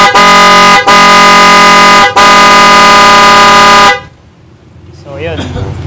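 Aftermarket PIAA car horn under a sound check, blaring very loud in three long sustained blasts separated by brief gaps, then cutting off to quiet background with faint voices.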